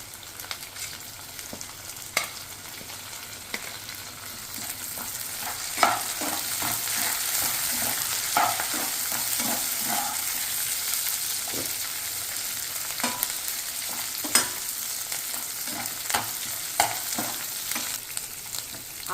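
Onion, green chilies and curry leaves frying in hot oil, a steady crackling sizzle punctuated by repeated scraping stirs of a spatula, close and clear, with no talking.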